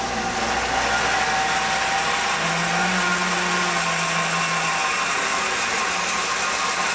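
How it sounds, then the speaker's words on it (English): A table saw with its blade tilted at 45 degrees runs loud and steady, a continuous close whining roar with a slight dip in pitch as the wood feeds through. "I've tilted the table at a 45 degree angle, and this is going to cut off the edges really nicely"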